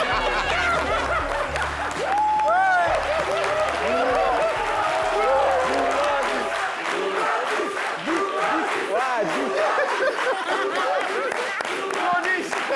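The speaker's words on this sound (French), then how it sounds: "Il applaudit." Scattered clapping from a crowd mixed with chuckles and chatter, steady and moderately loud throughout.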